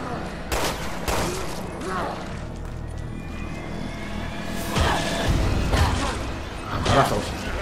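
Scattered gunshots from Resident Evil Revelations 2 crack out in several separate bursts, some loud and sharp, over game background noise and a voice talking.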